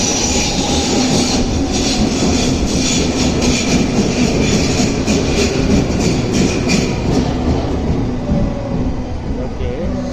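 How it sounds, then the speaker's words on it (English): A Berlin public transport train rumbles loudly and steadily nearby, a dense continuous roar with faint metallic wheel noise, as people talk faintly in the background. "Okay, so my train is over here."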